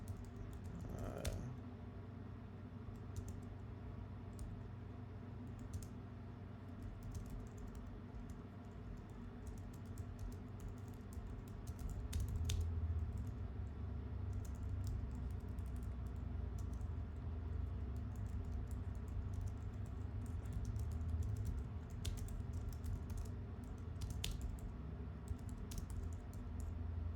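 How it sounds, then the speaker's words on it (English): Steady typing on a computer keyboard, close and fairly quiet, with continuous rapid key clicks over a low background hum for the whole stretch and a few sharper keystrokes standing out. "I really like this keyboard. I'm gonna get another one for work."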